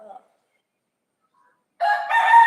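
A rooster crows loudly after a long stretch of silence, its harmonic call rising and holding near the end.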